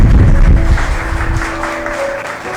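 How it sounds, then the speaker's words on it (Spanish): A church congregation claps together during a sermon, a dense, steady wash of applause over a low sustained keyboard tone, easing off slightly toward the end. "Yo le daría palmas al Señor."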